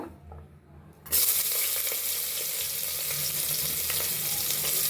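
Onion dropped into hot oil for a tomato chicken curry starts a loud, steady sizzle after about a second of quiet, and the frying continues without a break to the end, with no talking.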